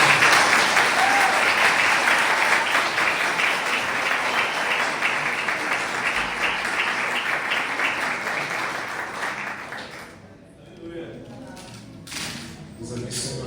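A church congregation applauds the Lord with loud, sustained clapping that fills the room for about ten seconds, then dies away into quieter scattered sounds and faint voices.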